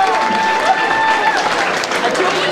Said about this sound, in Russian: А мы поддержим аплодисментами 10-й